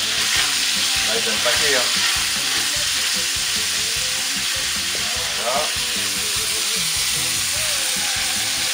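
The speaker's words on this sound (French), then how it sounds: "On va le faire frire. Et la morue dans l'huile." Salt cod for rougail morue fries in hot oil with a loud, dense, continuous sizzle and occasional spatula stirs, while a person briefly talks over it.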